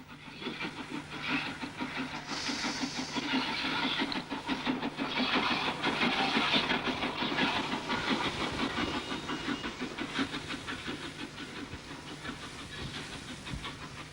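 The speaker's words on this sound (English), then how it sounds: "followed by J27 65846 with a small snowplough and brake van on a trip" A J27 steam locomotive, 65846, works a trip with a small snowplough and brake van, chuffing steadily with hiss and rumbling wagons as it passes at moderate distance, swelling and then easing off.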